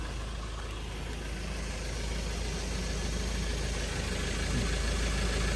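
A 2012 Mazda BT-50 Pro pickup truck engine runs at a steady, even idle, a constant close drone with no revving or voices.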